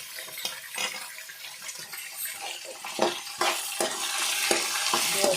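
Onions frying in a pan with green chillies, dried red chillies and curry leaves for upma, a steady close sizzle broken by scraping stirs and spoon knocks, no voices.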